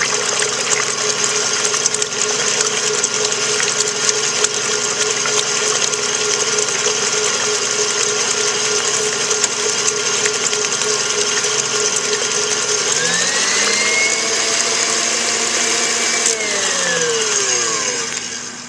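An electric mixer whirs loudly and continuously while beating egg whites until frothy, its motor pitch steady, then rising and falling as the beaters shift near the end.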